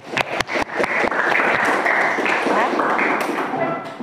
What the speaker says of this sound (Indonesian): Tepuk tangan untuk presentasi hari ini.